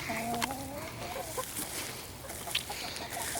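Backyard chickens cluck and murmur close by as they eat sourdough starter discard mixed with water, giving a few short throaty calls early on and then softer scattered clucks.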